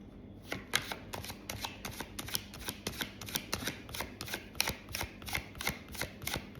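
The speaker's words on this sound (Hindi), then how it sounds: "ओके, एक कार्ड मैं लेने वाली हूँ यहाँ से।" Tarot cards riffle and tap steadily as a deck is shuffled for an Aquarius reading, a close, rhythmic series of crisp flicks with no talking.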